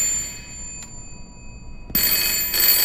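A phone starts ringing in the Layers of Fear Remake video game, a sudden bright, sustained electronic ring that cuts in after near silence and a faint click, loud and close with no talking.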